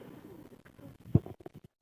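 Pigeons at a home loft coo softly nearby in a few low, rounded calls, with one louder coo standing out near the middle before the sound stops.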